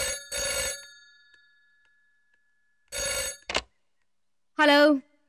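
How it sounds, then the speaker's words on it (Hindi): An old-style telephone bell in a Hindi film scene rings in three separate bursts with long silent gaps between them, loud and close, and a voice speaks briefly between rings. "अगर जय का फोन होगा तो मुझे देना"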